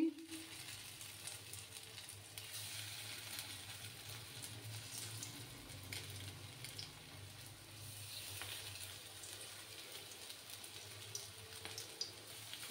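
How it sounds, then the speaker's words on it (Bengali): Sabudana vada, crispy tapioca pearl fritters, sizzle quietly in hot oil with a soft, continuous bubbling crackle and occasional faint clinks, heard fairly close. "এবার আমি বাকিগুলো ভেজে নেব।"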